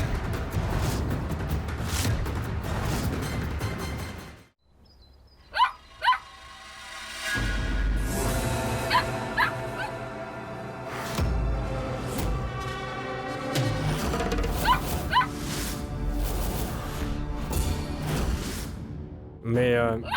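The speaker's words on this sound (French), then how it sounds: "il n'arrête pas d'aboyer en regardant la voiture" A dog barks repeatedly while staring at a car, sharp yips and barks scattered through, with voices talking over and between them in a continuous dramatic scene.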